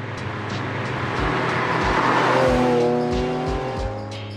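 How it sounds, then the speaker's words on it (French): A 1988 Ferrari Testarossa with a rear-mounted 380-horsepower V12 engine revs loudly nearby, its engine note climbing and holding in a smooth rising whine before easing back. "Son moteur V12 de 380 chevaux était positionné à l'arrière. Sa sonorité était très particulière et typiquement italienne."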